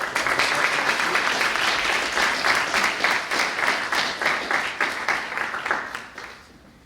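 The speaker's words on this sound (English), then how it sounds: "a great applause" A conference audience applauds, a dense burst of many hands clapping that stays steady, then thins and fades out over the last seconds.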